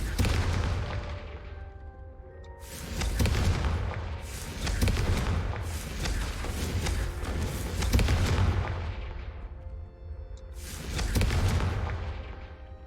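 Repeated booming fire-blast explosions from the Confringo spell in Hogwarts Legacy, several loud bursts spaced a few seconds apart over a low rumbling background.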